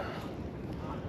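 Breezy wind buffets the microphone on a lake during kayak fishing, a steady, close, low rumble that stays even throughout with no clear voices.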